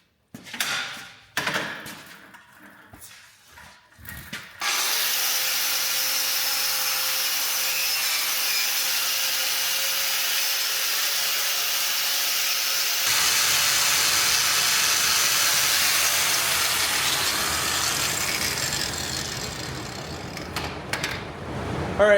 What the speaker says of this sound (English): So that's just going to be a lot with the wire wheel on the grinder